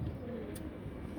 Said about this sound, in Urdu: یہ شاسرہ کبوتر ہے ماشاءاللہ